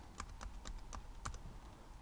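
Computer keyboard keys tapped while entering a password at a login form, about six distinct clicks spaced unevenly over two seconds, close and clear with no talking.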